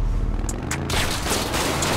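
Gunshots during a GTA 5 roleplay scene, a quick cluster of sharp reports followed by a dense burst of rapid fire, close and loud with no talking.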